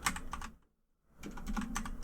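Fast typing on a computer keyboard, a close, crisp patter of keystrokes that stops for about half a second, then picks up again.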